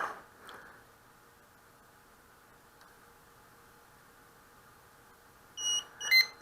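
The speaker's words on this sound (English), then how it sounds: "Once you hear that beep, her headlights stop flashing." Hubsan H122D transmitter gives two short, clear electronic beeps near the end of a quiet stretch as it binds with the quadcopter, preceded by faint clicks and low background hiss.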